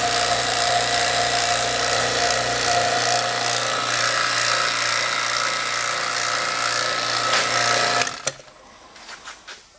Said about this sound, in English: You guys all know what a vacuum pump sounds like.